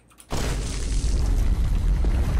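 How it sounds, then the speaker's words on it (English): An explosion in a video game hits suddenly after a near-silent moment. It becomes a loud, dense, rumbling roar that stays heavy and sustained to the end. "One explosion at a time."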